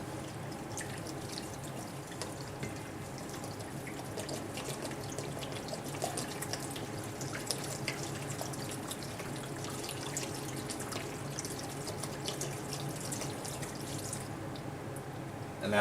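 Filtered water is poured into a pot, making a soft, steady trickle with dripping and splashing that continues quietly throughout. No one speaks.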